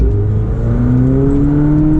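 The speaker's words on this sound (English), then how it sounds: "now we're going to accelerate." A McLaren 720S supercar accelerates hard from inside the cabin, its engine note rising steadily in pitch, loud and continuous with no talk.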